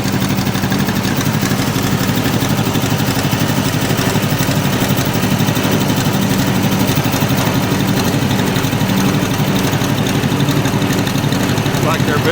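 A tractor engine idles steadily at a tractor show at Discovery Park of America, a constant mid-to-low rumble with slight vibration that runs unbroken from start to finish.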